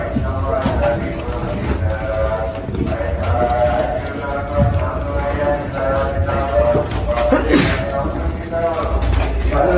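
Sheep on an Indonesian breeder's farm bleat repeatedly and loudly at close range, with overlapping calls over a busy pen background and some human voices.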